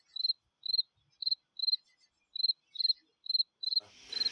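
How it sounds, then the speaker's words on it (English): A cricket chirps in a steady, evenly spaced rhythm of short trills, close and clear against a quiet night at a tent camp, before a soft rustle cuts in. "the crickets are chirping"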